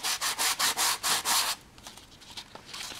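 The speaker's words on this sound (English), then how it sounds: "Now that I've lightly sanded the paint off" A foam block sanding paint off an RC plane part from a Unique Models PC-9 build: seven quick rhythmic rubbing strokes, close and scratchy, then softer, irregular rubbing.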